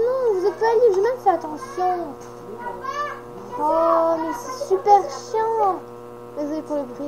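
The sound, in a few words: siblings' children's voices in the background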